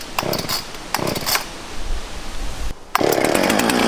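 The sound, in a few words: chainsaw running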